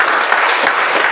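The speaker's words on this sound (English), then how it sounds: "Please give a big round of applause." A room full of audience members applauds a correct quiz answer, with loud, dense clapping that fills the short moment without speech.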